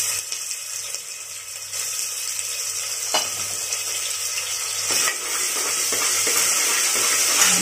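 Onions and ginger-garlic paste sizzle steadily in a hot pan, a continuous close frying hiss that swells louder over several seconds, broken by occasional soft knocks of a spoon stirring.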